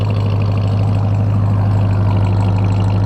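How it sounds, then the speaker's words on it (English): A supercharged V8 engine in a full-cab pickup truck idles steadily and loudly up close, a low throbbing rumble with no break for the whole stretch. "V8 engine with supercharger. Yes, it makes noise, but it's a nice noise."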